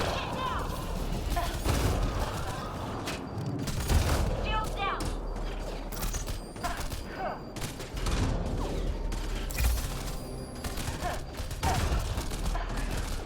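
Gunfire in a Mass Effect Andromeda multiplayer match: repeated loud bursts of rifle and automatic fire with mechanical clicks and impacts, near and constant, with a voice talking over parts of it.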